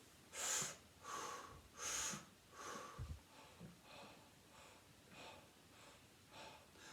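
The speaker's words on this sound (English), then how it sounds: "I'm only breathing with sound so that you could hear when I breathe" Slow, audible diaphragm breaths in and out for singing breath support, close to the listener, repeating in a steady rhythm that grows gradually softer.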